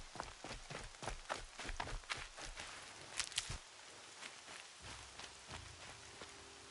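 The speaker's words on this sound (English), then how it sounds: "Rain's not so bad." Rain falling in the game Horizon Zero Dawn, a steady broadband patter with a run of brief footstep-like taps early on and a louder splash near the middle, with no talk.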